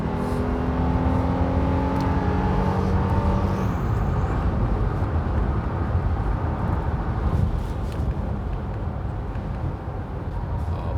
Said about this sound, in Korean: 스포츠 모드를 택하고 좀 달려보겠습니다